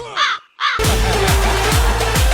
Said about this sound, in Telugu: అదిగొచ్చాడు కాకి